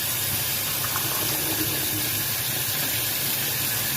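Fish is rinsed under running tap water, a steady unbroken hiss and splash of flowing water close by with no pauses.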